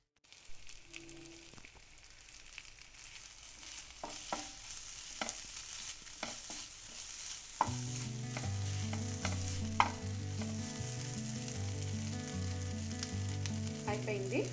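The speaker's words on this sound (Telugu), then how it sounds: "సో దీన్ని నేను కొంచెం కలిపి వీటిని ఈ ఉన్న హాఫ్ ప్రాన్స్తో కలిపేస్తాను." Egg mixed with salt, chilli powder and ginger-garlic paste stirred and frying with prawns in a pan: a soft sizzle with scattered spoon scrapes early on, then a louder, steady crackling fry with regular stirring taps, and no talk.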